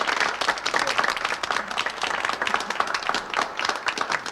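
Audience applause for the Labour candidate at a West Barsetshire constituency political meeting, a dense, steady wash of many hands clapping throughout, fairly close and without speech.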